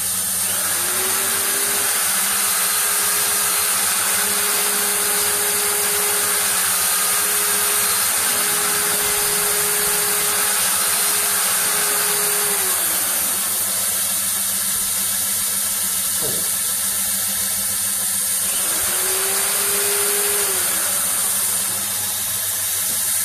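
A steady high-speed whir of a drill spinning a sword pommel nut against a fine sanding belt, with a sanding hiss, rising and falling in tone as the motor speeds up and slows.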